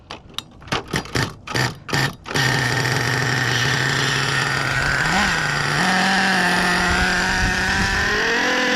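Traxxas Revo nitro RC truck engine warming up: several short cranking bursts, then the small engine catches and holds a loud, steady buzzing idle with slight revs and pitch changes, close by.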